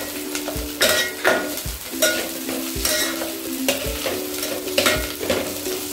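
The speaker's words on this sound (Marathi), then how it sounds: "कांदा ब्राऊन होत असताना त्यामध्ये थोडंसं अद्रक आणि लसूण देखील टाकायचं आहे" Onion browning in a pan with ginger and garlic, a continuous sizzle broken by repeated scraping strokes and metallic clanks of a spoon stirring, close and fairly loud.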